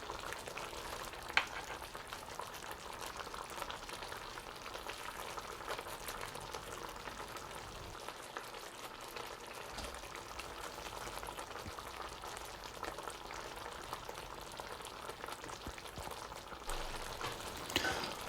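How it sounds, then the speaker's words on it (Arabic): Chicken steaks turned and stirred in cooking cream in a pan, a continuous low sizzling bubble with faint scraping, steady and close with no talk. "وهلا ببلش بالتقليب. بقلبهم مشان يتشربوا منيح بالكريمة"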